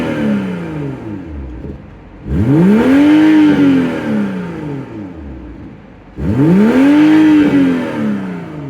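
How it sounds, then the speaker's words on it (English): A 2024 BMW M340i engine revving while parked, two loud rising and falling exhaust roars a few seconds apart over a steady idle, close and without talk. "Olivia, let's do another rev time"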